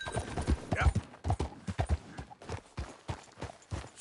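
Rhythmic clip-clop of horse hooves at a steady trot in a video game, close and clear, with a brief whinny-like sound early on.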